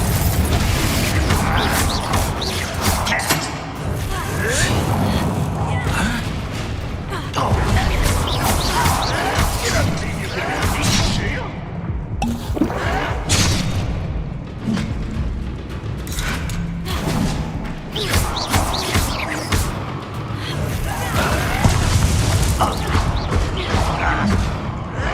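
Confringo blast spells go off in the Hogwarts Legacy video game, with repeated crashing explosive bursts and thuds over a dense, busy game soundscape throughout.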